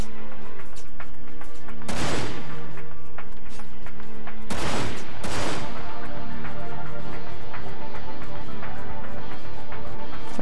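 Gunfire from the video game Dirge of Cerberus: two loud, sharp bursts of shots a few seconds apart, each ringing out over a steady hum of game background sound.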